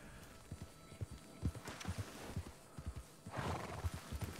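A horse in a video game whinnies and its hooves clip-clop in a steady walking rhythm, with a louder neigh near the end, close and fairly quiet, with no talking.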